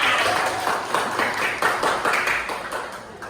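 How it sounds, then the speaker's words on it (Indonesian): A classroom of students claps together on the teacher's cue, a lively, uneven burst of many hands that swells with rhythmic peaks and then gradually thins out, fairly loud and close. "tepuk tangan ke kita semua"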